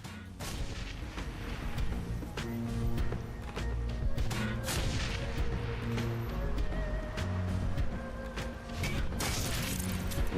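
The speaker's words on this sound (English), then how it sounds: "Grenade launch here." Grenade launcher shots in the video game Shadowrun: Hong Kong: repeated heavy thumping blasts and explosions recur across the stretch over a droning game soundtrack.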